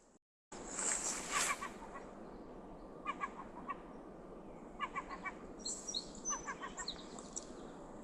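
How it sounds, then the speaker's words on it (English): Faint seagull calls, a few sharp cries repeating irregularly over a steady background hum, distant and quiet, at a harbor in Round Pond, Maine. "I wonder if the microphone's picking up that seagull."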